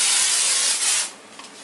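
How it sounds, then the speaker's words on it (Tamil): Spray aimed into a kitchen cupboard against ants and cockroaches, one loud close hissing burst that lasts about a second before cutting off. "கீழே அரிசி வைக்கிறதுனால எறும்பு, காக்ரோச்லாம் வராமல் இருக்க இங்கேயும் ஸ்ப்ரே பண்ணுறேன்"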